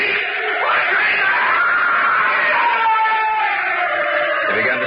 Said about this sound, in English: He began to scream.